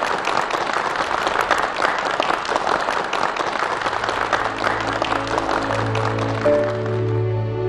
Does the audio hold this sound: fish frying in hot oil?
no